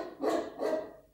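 Two close, loud dog barks in quick succession, each a short sharp burst followed by a fading tail.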